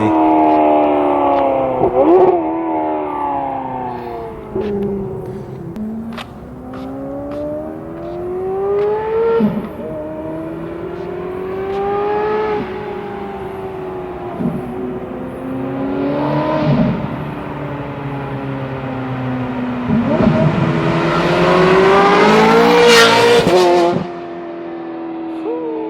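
A Ferrari 430 Scuderia fitted with an Agency Power titanium exhaust revs hard again and again, its pitch swooping up and down in loud, close blips that peak in a sharp scream near the end, with no one talking over it.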